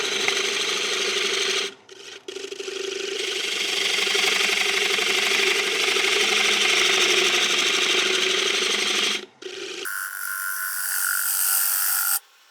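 A gouge on a wood lathe shaves excess off a giant silky oak bowl, a loud, steady rough scraping and whirring that breaks off briefly twice, then turns to a thinner, brighter cutting tone near the end.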